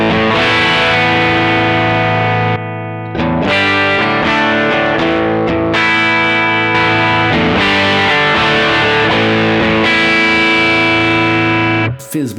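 Electric guitar run through a Nobels ODR-1 green overdrive pedal with level at 8 and gain turned down, playing loud driven chords and lead phrases with brief pauses between strummed passages, no talking.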